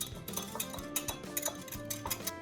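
A whisk beats egg batter in a bowl with rapid, steady metallic ticking and clinking against the sides, close and soft, with no voices.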